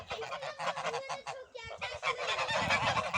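Geese honk loudly and almost continuously at close range, their harsh calls overlapping in a dense, noisy chorus with only one brief lull.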